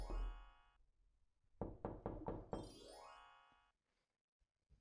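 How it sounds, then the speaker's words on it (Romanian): Knocking sounds at a door as five quick, loud knocks in a steady rhythm, following and overlapping bright ringing musical tones, then the sound fades into near silence. "Când s-au auzit de bătaie, nu știu dacă văd cineva la ușă"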